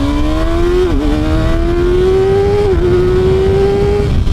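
A Kawasaki ZX6R 636 sport motorcycle engine holds a loud, steady, close-up note with slight dips and rises in pitch, buzzing continuously throughout.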